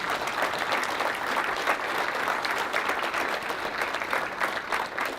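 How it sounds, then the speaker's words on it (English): Steady, dense applause from a conference keynote audience honoring the event organizers, loud and sustained throughout with no pauses. "Please give them a round of applause"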